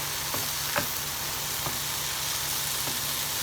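Mushrooms sizzle steadily in a pan for seafood paella, a continuous close frying hiss with a few soft clicks of stirring.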